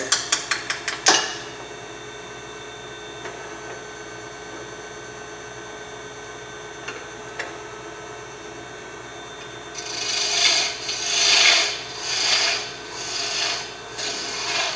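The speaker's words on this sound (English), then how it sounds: "Come in with the parting tool just to remove some of the wood out of the way." Wood being turned on a lathe while making sea life ornaments: a quick run of sharp taps at the start, then quiet humming, and later a gritty scraping rasp in rhythmic surges as the tool cuts the spinning wood.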